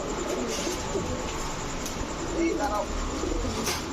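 Indian Kagzi pigeons, a male and female pair, coo softly and repeatedly amid a steady background hum, with a few brief chirps near the middle.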